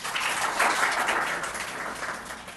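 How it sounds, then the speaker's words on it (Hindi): An audience at a coaching institute event claps for a former student who joined the BSF, giving a sustained round of applause at moderate distance with no talk over it. "एक बार फिर से जोरदार तालियां"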